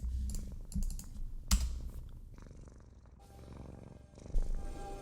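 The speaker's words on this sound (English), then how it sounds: "This purring noise." A cat purrs close by in a low rumbling drone, broken by sharp clicks and taps like keyboard typing.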